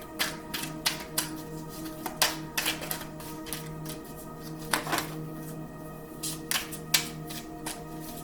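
Tarot cards being shuffled and handled by hand, giving a series of quiet, irregular riffling and tapping bursts with short pauses between them, close and fairly soft, with no talk.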